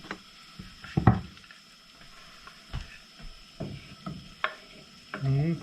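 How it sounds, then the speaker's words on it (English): Pieces of kielbasa sausage drop one after another into a pan of sauerkraut, a series of soft thuds and light clatters with a faint sizzle and stirring between them, ending in a louder scrape. "Dropping the sausage in"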